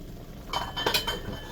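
Plates and bowls for instant noodles clink as they are set out, with a quick cluster of light ceramic knocks and chinks in a quiet kitchen.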